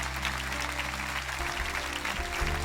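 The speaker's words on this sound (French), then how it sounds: "Voulez-vous applaudir le plus grand de tous les miracles?" A church congregation applauding, a sustained, even patter of many hands clapping at moderate distance, with faint sustained tones underneath and no speech.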